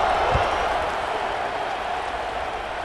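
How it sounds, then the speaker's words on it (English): A stadium crowd in the college football video game EA Sports College Football 26 buzzes in a steady, diffuse roar after a score, a continuous wash of distant voices that eases slightly toward the end. "this crowd is buzzing after that last score"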